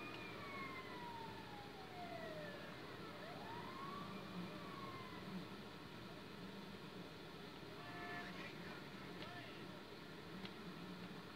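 An ambulance siren in the video game GTA V wails, sweeping up and down in the distance over steady engine and traffic noise, fading as other electronic tones briefly appear.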